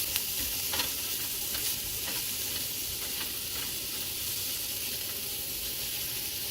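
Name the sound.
spinach, mushrooms and peppers sizzling in a pan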